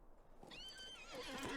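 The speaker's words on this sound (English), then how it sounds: "Alright, let's get on a horse." Horse neighing in the video game LOTRO (Lord of the Rings Online), a single clear whinny that rises and wavers in pitch, close and loud with nothing else over it.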